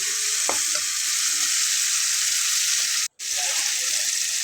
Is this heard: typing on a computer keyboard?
no